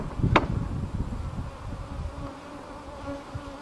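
Honey bees hum steadily around an open hive as the colony is built up, a soft continuous buzz with a brief louder knock near the start.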